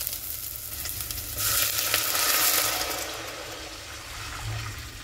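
Water poured into a hot pan of sautéed, wilted spices for chicken-feet soup, giving a broad hissing sizzle and rushing pour that swells in the middle and then settles into a steady simmer.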